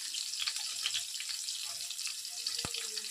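Green chillies sizzle in a pan for semiya upma, a steady broadband hiss running throughout with small crackles and one sharper pop near the end, no voices over it.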